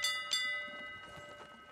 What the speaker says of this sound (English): Let's ring the bell.